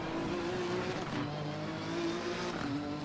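Race car engine from a Hyperdrive clip played back in Assetto Corsa Competizione, a continuous droning hum with slight pitch shifts, heard faintly and steadily with no talking.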